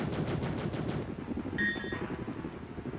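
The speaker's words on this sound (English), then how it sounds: "Your standard weapon is the pulse gun." Pulse gun in the game Twitch fires a rapid burst of about seven evenly spaced shots, then stops, leaving a low rumbling bed with a brief electronic tone partway through.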